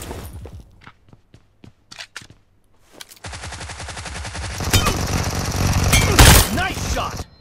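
Gunshots in the mobile shooter BGMI (PUBG Mobile) during a team match: several sharp separate shots at first, then a sustained loud burst of rapid automatic fire, with voices heard under the shooting.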